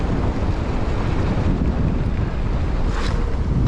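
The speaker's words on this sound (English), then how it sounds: "That wind is against me." Steady, loud wind roars across the microphone of a mountain biker riding downhill, a constant broadband rush with no voices.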